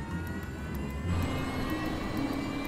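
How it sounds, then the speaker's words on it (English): A Fokker F28 jet's engine number 1 spools up during start-up, using power from the already running engine number 2, a steady loud whine and roar with rising tonal hum. "Captain Morwood uses the power of engine number 2, already running, to fire engine number 1"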